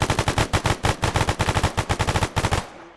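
A test-fired automatic weapon loaded with low-impact ammunition lets off one long, rapid burst of evenly spaced shots, loud and close. The burst runs nearly three seconds before cutting off into a short fading echo.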